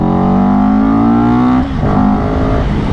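A CFMOTO 700 CL-X motorcycle's exhaust revs loud and close, a steady rising engine drone that dips and shifts tone partway through before settling into a rougher idle-like burble.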